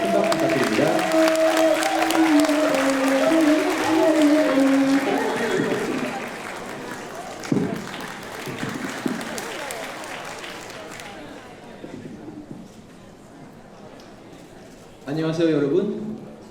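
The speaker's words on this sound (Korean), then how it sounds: "큰 박수 부탁드립니다." A crowd at a Korean-language speech contest for foreigners applauds under a host's voice and music in the first half, the clapping thinning out into quieter room noise, with a brief louder burst near the end.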